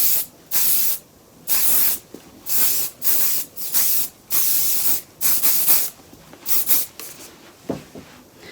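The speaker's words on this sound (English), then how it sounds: "You can add a little bit of hairspray as you're pulling out." Hairspray misted onto hair while styling, a series of about a dozen short, sharp aerosol bursts in an uneven rhythm, close and crisp with pauses between.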